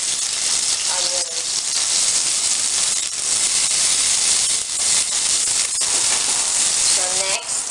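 Garlic and onion sizzle steadily in a pan while a sauce for quail egg nuggets is started, a loud continuous frying hiss with a few brief voice-like tones rising over it.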